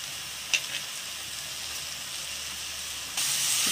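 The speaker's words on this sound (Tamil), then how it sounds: "இப்போ பூண்டும் சேர்ந்து ஒன்றா வதக்கலாம்." Garlic sizzles in a pan for egg thokku, with a steady frying hiss, a sharp clink of the spatula near the start, and a brighter, louder hiss toward the end.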